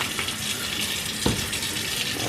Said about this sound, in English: A little bit of water in there so it's a steam cook, just like that